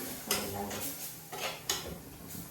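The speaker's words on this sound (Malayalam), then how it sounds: "ഇത് പൊരിക്കാൻ വേണ്ടി ചട്ടി എടുപ്പത്ത് വെച്ചതാണ്." A metal frying pan set down on a stove, a few light clanks and taps of metal on metal, quiet and close, with faint kitchen background.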